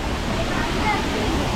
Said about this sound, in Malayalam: അവിടുന്ന് വെള്ളം ചാടി ഇങ്ങോട്ടൊക്കെ, ചെടികളെല്ലാം നനഞ്ഞ്